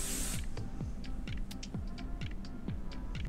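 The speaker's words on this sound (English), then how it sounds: "I'm going to hold my can further away so it doesn't beat up on the wig. Just going to spray." An aerosol spray can sprays paint onto a cosplay wig, giving a short burst of close, loud hissing at the start, then a quieter stretch with faint repeated clicks and a low throbbing hum.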